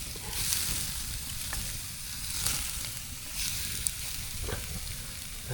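Steak fries in a pan over a campsite fire, a steady close sizzle with crackling spits running the whole time, no voices.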